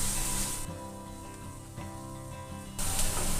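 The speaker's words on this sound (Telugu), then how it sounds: "ఒక 2 నిమిషాల పాటు ఫ్రై చేసుకోవాలి ఇవన్నీ కూరగాయ ముక్కలు." Vegetable pieces for veg spring rolls frying in a pan, a steady close sizzle and hiss that swells louder at the start and end, with no talking over it.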